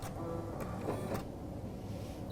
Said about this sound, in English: It's going to do a reinforcement stitch and then it's going to cut the thread.